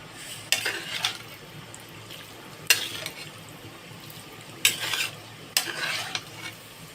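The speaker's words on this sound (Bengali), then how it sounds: "এটা এবার অনবরত নাড়াচাড়া দিতে হবে যাতে তলে লেগে না যায়।" Beef pickle cooks down in a pan once its water has dried off. A low sizzle runs steadily underneath four sharp scraping stirs of a spatula against the pan's base, heard up close.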